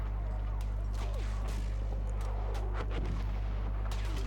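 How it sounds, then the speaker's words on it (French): Suppressive gunfire in the Battlefield 1 video game, a loud continuous stretch of rapid shots and distant booms over a heavy low drone, with faint voices underneath. "Je vais lui faire un peu des tirs de suppression"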